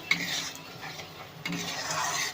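A spoon scrapes and stirs white mustard and poppy seed paste in a pan, two quiet stirring passes with light metallic scrapes and a soft sizzle underneath.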